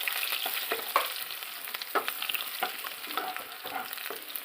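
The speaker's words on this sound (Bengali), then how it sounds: "পেঁয়াজ একটু ভাজা ভাজা হয়ে আসলে আমি এর মধ্যে আলুটা ছেড়ে দেবো।" Onion sizzles steadily in hot oil while a utensil scrapes and stirs in short, repeated strokes close by.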